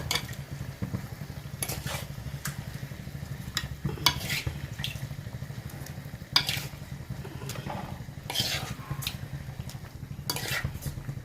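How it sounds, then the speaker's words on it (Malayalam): A fish curry bubbles and sizzles softly in a pot on the stove while a spoon stirs and scrapes now and then, close and fairly quiet, no talking. "തിളച്ച് വരുന്നുണ്ട്. അപ്പം നമുക്ക് എന്താക്കാന്നറിയാം, ഈ മീൻ ഇതിനകത്ത് ഇട്ട് കൊടുക്കാം."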